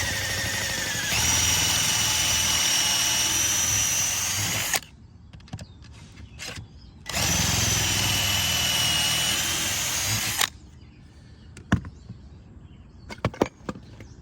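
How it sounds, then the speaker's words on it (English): A power drill bores pocket holes in wood held in a jig, in two loud, sustained runs of several seconds each. Short pauses with small clicks and handling noises separate and follow them. "then you drill the pocket holes."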